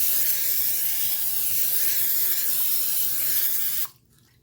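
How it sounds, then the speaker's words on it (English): Olive oil sprayed from a can onto canned chickpeas and potatoes for roasting: a close, steady loud hiss lasting nearly four seconds, then cutting off abruptly to quiet. "I'm gonna spray some olive oil."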